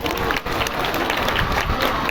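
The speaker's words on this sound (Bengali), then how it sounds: "জোরে একটা হাততালি হয়ে যাক" A crowd at a school annual function claps steadily and densely, a close, sustained round of applause with a brief dip near the start.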